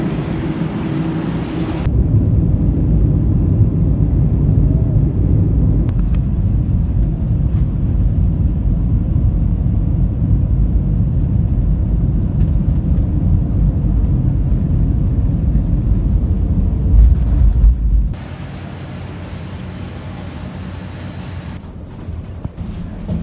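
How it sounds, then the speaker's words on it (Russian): A passenger airplane turns on an airport runway, its engines giving a loud, steady low roar for about twenty seconds before dropping to a quieter hum. "Самолет разворачивали на взлетной полосе"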